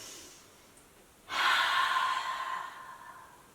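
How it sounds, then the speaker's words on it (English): A deep exhale through an open mouth during yoga, a soft breathy sigh that starts suddenly after a quiet pause and trails off over about two seconds, close and alone. "Look to the sky, open your mouth, exhale"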